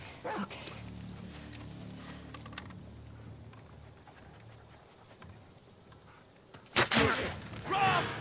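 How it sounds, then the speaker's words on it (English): A dog barks and whimpers in The Last of Us Part II's No Return mode, with faint, sparse sounds early on, then a sudden loud burst of barking near the end. "Fuck that dog."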